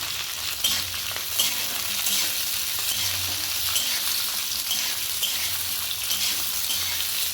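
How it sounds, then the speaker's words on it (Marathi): Soya chunks, capsicum and onion are sautéed over a high flame, giving a loud, steady sizzle with crackling and stirring scrapes throughout, without any voices. "आता ढोबळी मिरची टाकून घ्या, कांदा टाकून घ्या आणि हे सगळं मोठ्या गॅसवर परतून घ्या।"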